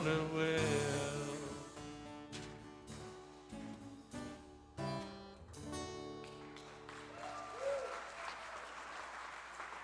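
Audience applause at a Sunday service show rises loudly at the start, then continues in uneven bursts and swells over about ten seconds, with some music mixed in.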